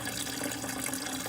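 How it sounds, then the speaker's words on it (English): Coolant drains from a 2009 Land Rover LR2 through a hose into a bucket, giving a steady, continuous rushing trickle of liquid with no pauses. "I open the drain. I got my hose running down here into the bucket."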